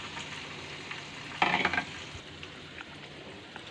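Cashew, poppy seed and chili paste dropped into a hot frying pan, a soft continuous sizzle that flares into a brief loud hiss and stir as the paste hits, then eases back to a gentle crackle.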